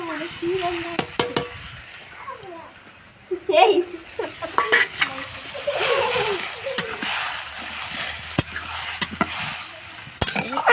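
Vermicelli (semiya) tossed into a pan and stirred, close scraping and clinking of a utensil against the pan over a sizzle, with scattered taps and short bursts of stirring throughout.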